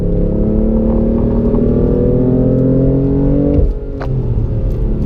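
A BMW M3 on a race track at the BMW Performance Center West accelerates with a loud, steady engine drone whose pitch climbs, then a gear change drops it briefly before it pulls again, heard close.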